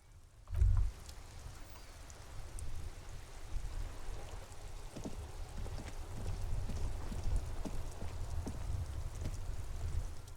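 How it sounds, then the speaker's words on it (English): Steady rain falls in the video game Disco Elysium as a soft, continuous hiss with faint scattered drips and patters, quiet and unbroken apart from a brief low thump near the start. "This rain will not let up anytime soon."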